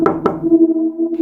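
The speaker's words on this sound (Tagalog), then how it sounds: "nakarinig kami ng sunod-sunod na katok sa pinto" Knocking on a door: two sharp raps close together near the start, followed by a sustained ringing tone with no voices.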